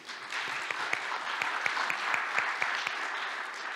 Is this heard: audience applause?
yes